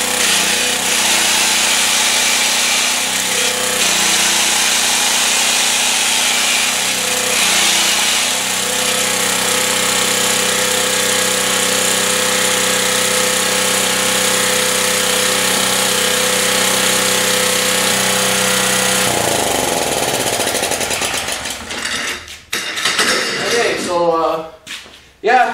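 A Generac G-850 generator with a Kawasaki engine runs lean and hot, a steady, loud, close mechanical drone with a constant hum that holds for about twenty seconds before breaking into rough handling noises near the end.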